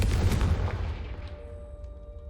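A Confringo fire spell from Hogwarts Legacy goes off as a close, heavy blast, a deep rumbling burst that fades out over about two seconds.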